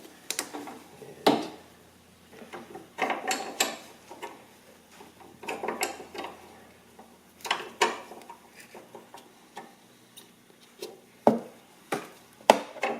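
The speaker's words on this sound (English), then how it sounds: "Now we can remove the line, and what we're going to use is a flare nut wrench." A 10 millimeter flare nut wrench working a brake line fitting loose on an NC Mazda Miata during a StopTech brake kit install: scattered metallic clicks and knocks, close by, irregular with short bursts and gaps.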